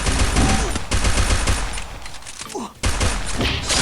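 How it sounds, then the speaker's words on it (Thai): Gunfire in the Free Fire mobile battle royale game, with loud rapid bursts of automatic shots, a short break near the middle, then more firing, and players talking over it. "เขายิงกันแล้ววะ"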